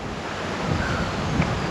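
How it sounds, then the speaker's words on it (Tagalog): Strong wind gusts at a hillside campsite near Metro Manila, a steady, loud broadband roar with no voices, swelling slightly in a couple of brief gusts. "Tsaka napakalakas ng hangin dito"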